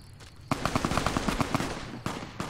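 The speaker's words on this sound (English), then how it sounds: "We're taking fire" Rapid automatic gunfire in Fallout New Vegas, a steady rattling burst of evenly spaced shots lasting about a second and a half, fairly close and alone, followed by a short trailing burst.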